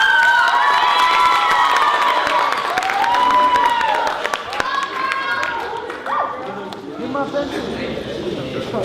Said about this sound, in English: So round of applause for Maria.